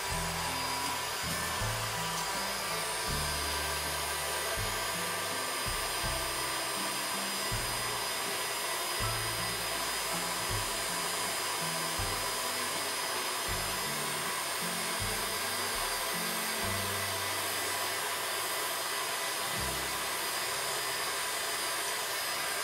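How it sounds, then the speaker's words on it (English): A heat gun blows hot air for heat embossing, a continuous, steady whooshing roar close by that runs uninterrupted with no talking. "Be careful not to burn yourself, the heat gun is very, very hot."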